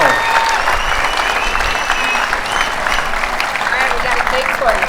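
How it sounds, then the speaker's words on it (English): A press-conference crowd at the US Open pickleball event gives birthday applause: a loud, sustained wash of clapping with cheers, and voices are faintly heard talking over it. "a big happy birthday round of applause for Andre Agassi."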